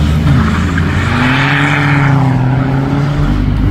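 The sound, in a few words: diesel car engine leaving a car show, bonnet vent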